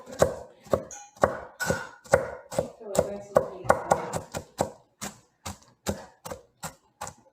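A knife chops food on a cutting board in a steady series of sharp, close knocks, about two or three per second, with a brief speaking voice partway through.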